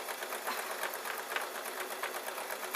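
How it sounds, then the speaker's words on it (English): A sewing machine stitches a seam on oversized Christmas wrapping storage, running with a fast, even mechanical whirr and rapid needle clatter close by, steady for several seconds without talk. "Now I've placed it underneath the sewing machine and I'm going to sew for a few inches"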